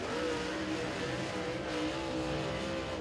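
Race car engine roaring at high revs through turn four at Thunderhill Raceway during Southern All Stars qualifying, a loud, steady, continuous drone with no break across the whole stretch.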